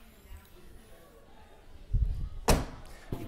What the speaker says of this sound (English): allows you to open up the door.